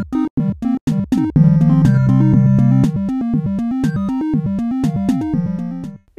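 Chiptune song made in Bosca Ceoil with swing applied, giving an offset, lopsided beat: bright square-wave melody and bass notes in a bouncing uneven rhythm, loud and continuous with no voice.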